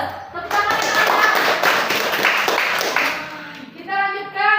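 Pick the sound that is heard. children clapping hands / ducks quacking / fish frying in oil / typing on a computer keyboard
children clapping hands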